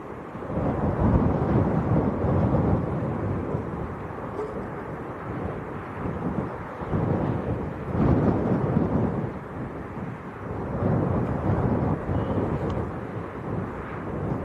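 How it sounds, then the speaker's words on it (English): Strong wind buffets the microphone outdoors at an airport, a loud, rumbling low roar that surges and eases in gusts throughout. "the wind's actually strong enough to move the tripod"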